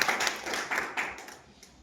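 A seated audience at a presentation about Riway products claps briefly, a quick patter of hands that peaks early and then tapers off to faint scattered claps.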